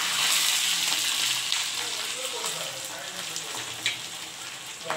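Green chillies for a tempering sizzle in hot oil with a dense, steady hiss. The frying stays close and loud, with faint scattered pops and a soft voice in the background.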